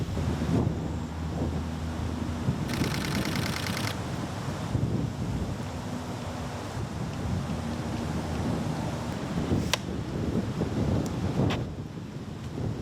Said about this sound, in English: This wind is definitely making it a little more challenging.